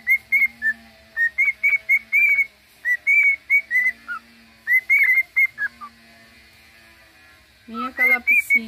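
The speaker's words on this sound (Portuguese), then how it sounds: "Calopsita" A pet cockatiel whistles a series of clear, bright chirpy notes in short repeated phrases, loud and close, with steady low hum underneath, a pause, then a burst of harsher squawking calls at the end.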